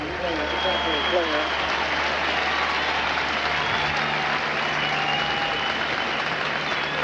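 A capacity stadium crowd of over 59,000 at an NFL game in Green Bay gives a sustained ovation for Brian Noble, a dense, steady roar of cheering and applause with commentary voices over it.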